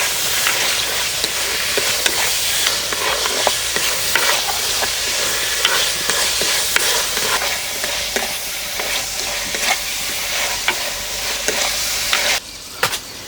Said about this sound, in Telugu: నూనె వేడెక్కిందండి, ఎండు చేపలు వేసేసుకుందాం. ఇవి ఒక 4-5 నిమిషాల పాటు ఫ్రై చేసుకోవాలండి.